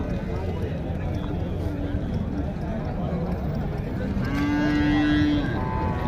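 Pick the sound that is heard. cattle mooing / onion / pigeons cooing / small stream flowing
cattle mooing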